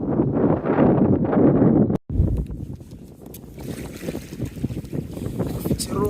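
Steady wind rushing and buffeting over the microphone on a boat on the Missouri River, mixed with broadband water and boat noise, with a brief dropout near the start.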